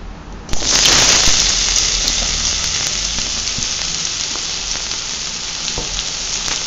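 Raw plantain drops into hot oil already crackling with mustard seeds, urad dal and curry leaves, bursting into a loud, steady sizzle that holds on without pause, close and with no voices.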